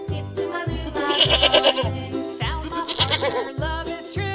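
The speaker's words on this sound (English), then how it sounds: "Goat." A goat bleats over and over in a loud, wavering, nasal cry, close by, with a steady low rhythmic thumping of music underneath.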